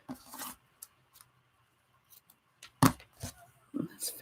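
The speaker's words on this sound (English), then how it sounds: "Those scissors weren't that very good." Scissors snipping ribbon in a few short, scattered cuts, close and quiet, with rustling and handling noises and some talk between them.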